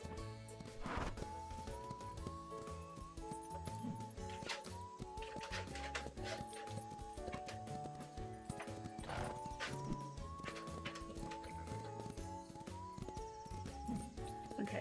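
Horse hooves in The Ranch of Rivershine make a faint, steady clip-clop at a slow gait, with a whinny in places, under looping game music.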